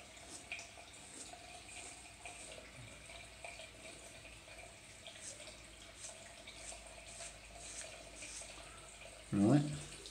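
Water from a tap runs faintly in a bathroom sink as a Cien 5-blade razor is rinsed, a soft steady trickle ending in a brief louder splash.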